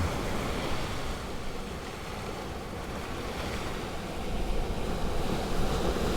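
Steady roar of ocean surf at Poipu Beach on Kauai, Hawaii, a continuous broadband wash of breaking waves with wind buffeting the microphone and no voices.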